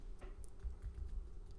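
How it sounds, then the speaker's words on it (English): Soft, scattered keystrokes on a computer keyboard tap irregularly at low volume over a faint background rumble. "I apologize for the typing, guys."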